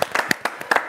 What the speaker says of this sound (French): On peut déjà applaudir,